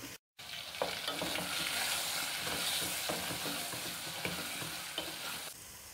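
Chicken frying in a pan with ginger garlic paste, a continuous close sizzle broken by scattered clicks and scrapes of stirring.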